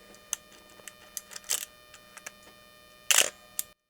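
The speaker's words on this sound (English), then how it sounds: "That noise is really, really cool. It's a proper film camera." Close-up film camera mechanics: small ticking clicks, a quick wind-on whir, then a louder shutter clack and a final click, no voices.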